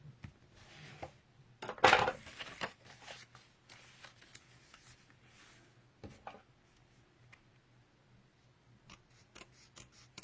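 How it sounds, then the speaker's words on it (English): Scissors snipping the corner off a sheet of designer paper during a fold craft, a few sharp close cuts with light handling rustles around them and long quiet gaps between. "Cut off the corner."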